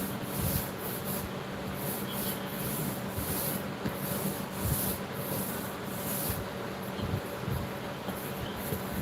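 A projector screen gets a coat of paint, heard as a continuous rubbing, brushing scrape with rhythmic strokes and occasional soft bumps.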